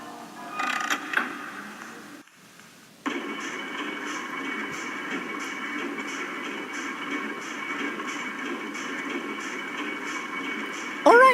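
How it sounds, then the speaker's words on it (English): A LEGO Bendy and the Ink Machine build's machine starts up after a lever is pulled: a sudden steady mechanical hum and whirring drone kicks in and runs continuously, loud and close, after a brief creaky start. "pull the lever and the machine shall activate."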